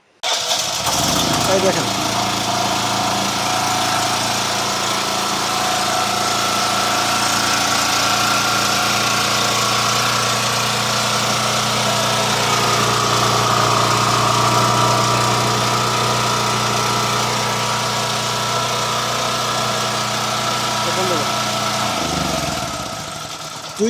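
A Butterfly generator engine fires up on self start and settles into a loud, steady idle, a close droning hum that runs for about twenty seconds before cutting out, with someone talking over it.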